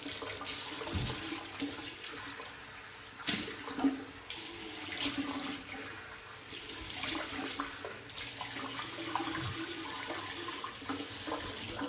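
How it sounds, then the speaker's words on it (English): Water running from a bathroom tap into a sink while the face is rinsed after a shave, a steady close rush broken by splashes and short gaps as hands cup and throw the water. "Let's kind of rinse off the face here"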